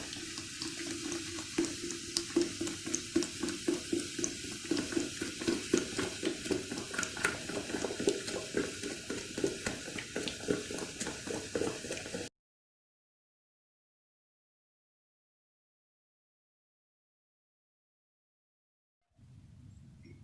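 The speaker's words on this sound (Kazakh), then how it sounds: "Одан кейін мен оның үстіне 1 литр спрайт құям." Sprite soda pours over ice, lemon juice and mint in a container, a steady fizzing, splashing stream with crackling bubbles for about twelve seconds before it stops and falls silent.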